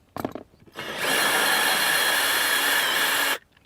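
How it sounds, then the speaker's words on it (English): A cordless drill fitted with a 10mm socket spins out the mounting bolts of a 2015-2019 Ford F150 side mirror, a brief tap followed by a steady, close whirring run of about two and a half seconds that stops abruptly. "For removal purposes, I'm going to use a cordless drill with a 10mm socket."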